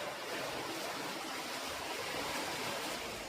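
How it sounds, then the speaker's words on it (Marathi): Steady broadband rush of a river running high after rain, continuous and fairly close with no voices over it. "त्या बाजूने जास्त पाणी वाहत आहे."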